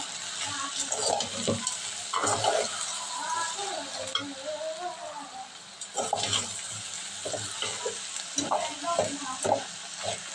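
Okra and prawn curry sizzles steadily in a pan while it is stirred, with scraping and clattering stirs breaking through the constant frying hiss; a voice may be faintly heard at times.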